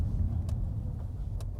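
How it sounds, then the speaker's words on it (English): A big truck driving at a recycling center, a steady low engine rumble close by with no talk. "there's a big truck"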